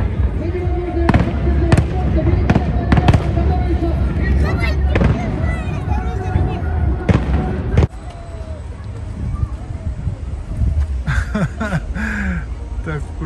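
A fireworks salute bursts outdoors in a series of sharp booming cracks, loud at first and then quieter and more distant, with people talking and cheering throughout.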